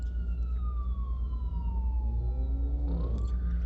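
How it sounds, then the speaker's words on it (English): An emergency vehicle siren wails steadily in the distance in downtown Tampa, its pitch slowly sliding down and then rising again over a constant low rumble of city traffic. "You can hear the sirens in the background."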